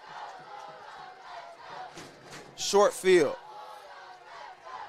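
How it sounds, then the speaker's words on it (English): A football crowd in the bleachers roars and chants during a college game, with two loud surges of cheering rising over a steady background murmur while a voice talks briefly. "Crowd screaming,"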